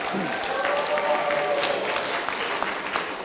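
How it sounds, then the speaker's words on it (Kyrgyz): An audience clapping in applause, a dense steady patter of many hands filling the room, with voices murmuring underneath. "Анда ушул биздин ушул кызыбызга бир кол чаап коелу."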